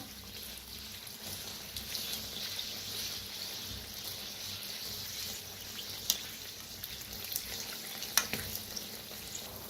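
Kachori deep frying in hot oil over medium heat, a steady soft bubbling sizzle throughout with a couple of sharp crackles near the end, close and moderately quiet, with no one speaking.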